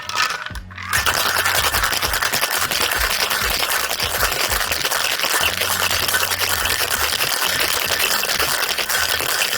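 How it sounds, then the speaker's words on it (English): Ice rattles hard inside a cocktail shaker during a strawberry rum punch with pineapple juice, a dense continuous shaking that stays loud and steady for several seconds after a brief pause at the start. "Plenty of ice into the shaker"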